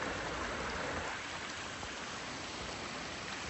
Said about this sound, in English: Water's coming through a lot heavier today.